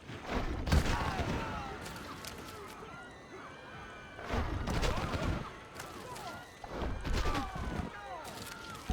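Artillery fire on the city of Susa in Civilization V, heard as three loud, booming bursts of several blasts each, spaced a few seconds apart, with crashing debris and a rattling tail after each volley.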